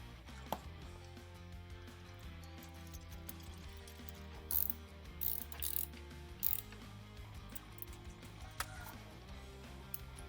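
A ratchet tightens bolts on the steering damper of a CFMOTO 800NK motorcycle, giving quiet bursts of rapid mechanical clicking with brief pauses between turns.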